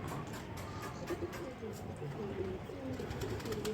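Soft, low pigeon cooing repeats through a steady, noisy background of rain, a few birds murmuring close by.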